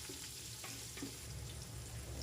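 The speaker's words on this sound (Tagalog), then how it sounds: "Halu-halin po natin hanggang sa maluto po ang ating bawang at sibuyas" Garlic and onion sauté in a pan with a faint, steady frying sizzle, quiet and brief, with no voices over it.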